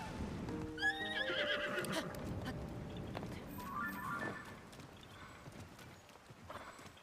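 A horse in the video game Tears of the Kingdom whinnies with a high, wavering neigh, then a second shorter call, over steady clip-clop hooves throughout, moderately faint.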